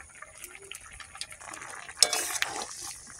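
Spices stirred into a cooking pan, with soft scraping and clinking of a utensil against the metal, a quiet sizzle under it and a louder scrape near the end.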